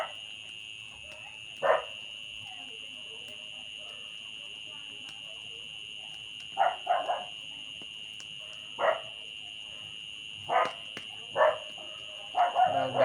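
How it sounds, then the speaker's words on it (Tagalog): Several dogs barking outdoors, sharp separate barks and yips at irregular intervals, clustering toward the end, over a steady high-pitched electrical whine. "maingay na yung mga aso"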